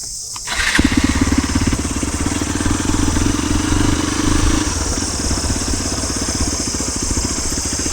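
A Honda CRF motorcycle engine in Kerala fires up after a brief quiet moment, then runs close and loud at a steady idle with a throaty, even rumble throughout.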